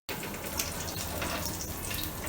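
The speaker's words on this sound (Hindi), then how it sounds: "जीरा क्रैकल होना शुरू हो गया है।" Cumin seeds crackling and sizzling in hot oil in a pan on a gas stove, a steady dense hiss with fine pops, close and alone without talk.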